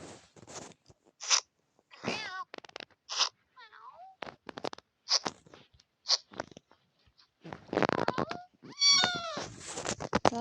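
Cats meow and caterwaul in short, varied calls while playing, some thin and high, others drawn out, with brief quiet gaps between them and a busier cluster of cries toward the end.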